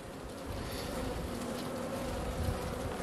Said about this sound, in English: These bees are going to swarm on us soon